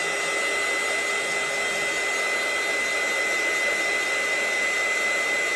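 A hair dryer blows steadily and loudly up close, drying a paper journal page with a constant whooshing drone and no pauses.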